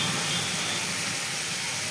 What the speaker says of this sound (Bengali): ভাজা করে নিচ্ছি।